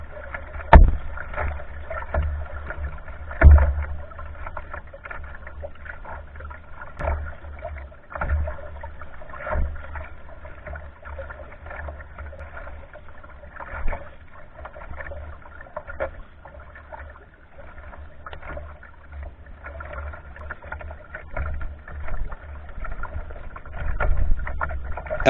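A kayak paddles across calm saltwater, soft splashes and trickles of the blade dipping in a slow repeating rhythm, close and fairly quiet, with a few sharper knocks along the way.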